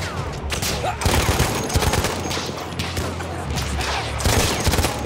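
Rapid bursts of gunfire from Battlefield 1, loud sharp shots in quick clusters with short gaps, repeated through the stretch over a busy battle background.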